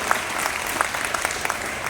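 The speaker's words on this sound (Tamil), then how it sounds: "அந்த மொழிக்காக ஒரு நல்ல கைத்தட்டல்" An audience at an award function in Trichy breaks into applause, a dense, even burst of many hands clapping that fills the whole moment.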